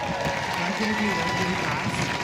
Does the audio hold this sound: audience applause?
yes